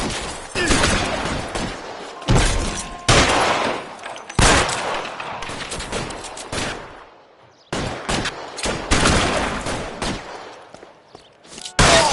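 Gunfire from a shootout in the L.A. Noire video game: loud, dense bursts of rapid shots come in several volleys separated by short gaps, with a few isolated shots between them.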